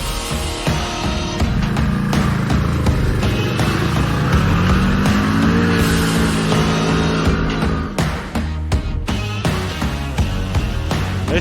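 A CFMOTO ZFORCE 1000 Sport side-by-side drives close by, its engine revving and rising in pitch through gear changes, loud and continuous with brief throttle lifts.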